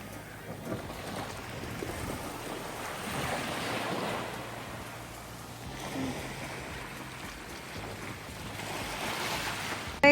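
Ocean waves wash in and recede in slow surges at Motobu beach, Okinawa, with steady wind buffeting the microphone throughout; no talking.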